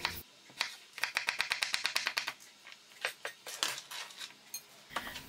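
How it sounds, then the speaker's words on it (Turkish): A knife dices gherkin cucumbers into small cubes on a board, producing a quick regular series of crisp chopping taps, then scattered slower cuts, close and fairly quiet with no talking. "Kornişonluk salatalıklarımızı da küp küp doğruyorum"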